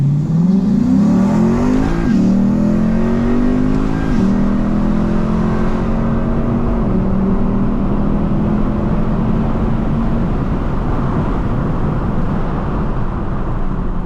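A Lexus IS F launches hard with traction control off, its engine roaring loudly as revs climb, dropping briefly at each upshift and pulling again, fading into steady road and wind noise.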